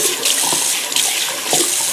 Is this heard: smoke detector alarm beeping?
no